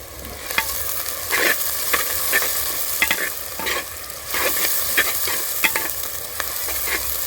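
Onions frying in a pan with whole cumin and cardamom for a rustic chicken curry, a steady close sizzle broken by repeated scraping stirs of a spoon, no voices.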